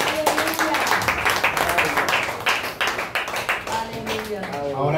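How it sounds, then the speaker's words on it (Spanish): Audience applause at a church gathering in Jaruco, Cuba, with dense rhythmic clapping from a crowd, loud and close, and voices mixed in underneath. "Dale un aplauso al Rey."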